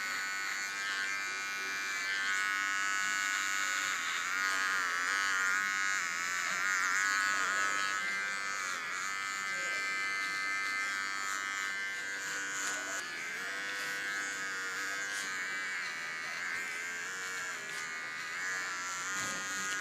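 An electric hair clipper buzzes steadily and close up as it cuts hair, held at an angle along the lines of a hair tattoo, a continuous whine with slight shifts in pitch and no talking.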